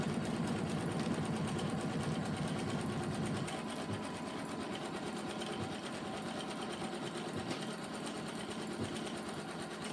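A Janome Continental 17 sewing machine stitching with a giant 12x19 embroidery hoop runs steadily for the whole stretch, a dense continuous mechanical whir with fast rhythmic needle clatter, close and loud, alone without talk.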